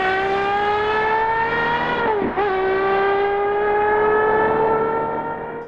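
A lightweight manual sports car with a central driver's seat, revving to 12,000 RPM, screams with a high piercing wail that dips sharply for a gearshift, then climbs and holds, loud and close with no voices.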